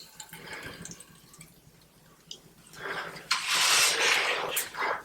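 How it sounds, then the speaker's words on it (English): Paint is poured into a 5-gallon bucket, a soft early trickle growing into a thick, steady gush of liquid that runs for a couple of seconds and then tapers off, with light handling noise at the start. "we're going to pour in the paint into the 5-gallon bucket"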